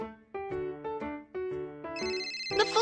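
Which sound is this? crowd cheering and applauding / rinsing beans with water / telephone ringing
telephone ringing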